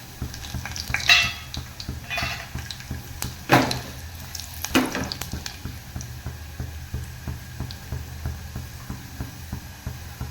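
Cumin joins browned garlic frying in hot oil for a greens dish, with a steady sizzle, repeated ladle scrapes and a few louder stirring clatters at close range.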